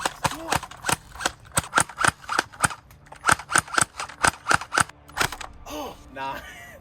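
A Surge XL gel blaster firing gel balls: a rapid string of sharp, close snapping pops in quick bursts, followed by a brief voice near the end.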